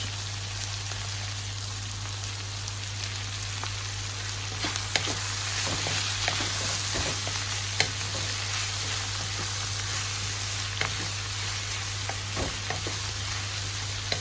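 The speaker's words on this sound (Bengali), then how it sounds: "আলু ফুলকপি এগুলো দিয়ে রান্না করব না ভাজি করে কড়া ভাজি ফ্রাই করব" Potato and cauliflower pieces deep-frying crisp in hot oil give a steady, loud, close sizzle with scattered pops and crackles, and a low steady hum runs underneath.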